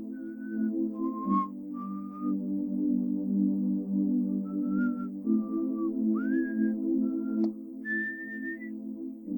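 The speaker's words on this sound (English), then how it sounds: "You keep hearing the whistling." Someone whistles a wandering tune in short phrases, sliding between notes, over a steady low droning hum.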